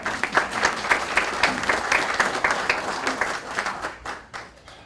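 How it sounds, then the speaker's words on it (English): Seminar audience clapping for a speaker at a bank fraud seminar, a moderate round of applause from a modest crowd, with individual claps audible before it tapers off near the end. "let's give him a round of applause"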